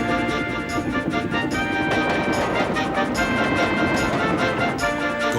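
A train rumbles along with a dense, continuous clatter of wheels on rails and a metallic ringing hum, loud and close, steady throughout.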